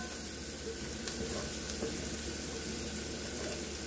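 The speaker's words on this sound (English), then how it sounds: "You don't want to burn them, but you do want them to cook fairly well into the butter." Kielbasa frying in butter in a pan gives off a steady, even sizzle that holds at a moderate level throughout, with no talking over it.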